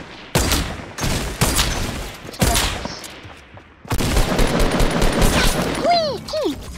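Fortnite gameplay gunfire, sharp loud shots near the start followed by a denser burst of fire and game effects, with a voice briefly audible.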